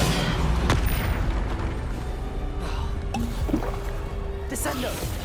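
A Depulso force spell from Hogwarts Legacy lands as a heavy boom amid loud, continuous game combat noise, with sharp impacts scattered across the clip.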